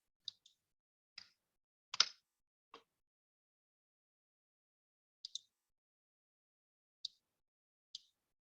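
A computer mouse clicks in quiet, faint and sharp, in scattered single and double taps spread irregularly over several seconds.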